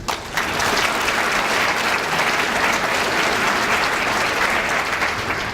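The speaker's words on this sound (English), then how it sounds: "I'd just like to give them a round of applause" Dense, steady applause from a luncheon audience, loud and sustained from start to finish with no pauses.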